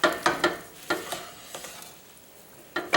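Potato pasta stirred in a pan with a little grape seed oil: a series of sharp, close utensil scrapes and clacks in quick bursts over a soft frying hiss, tapering off before a final pair of strokes.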